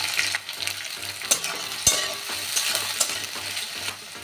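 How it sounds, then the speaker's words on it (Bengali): Two onions frying in oil with garlic in a pan for meat ghugni, sizzling steadily while a utensil stirs and scrapes in a regular rhythm, close and loud with no voices. "পেঁয়াজটা আমি ভালো করে ভেজে নেব"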